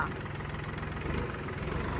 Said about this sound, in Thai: วันนี้แม่ค้าจะมารีวิว วิดีโอการทำงานของรถไถยันมาค่ะยันมา EF 3 5 2 T SB 5 2ค่ะ